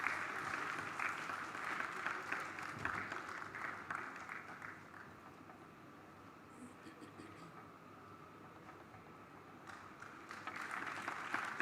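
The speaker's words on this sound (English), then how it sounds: "We can give a round of applause." A conference audience applauds steadily at the IRC annual session in Bhubaneswar after a technical talk, a faint, even wash of clapping that eases midway and then swells again.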